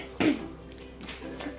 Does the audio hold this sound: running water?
no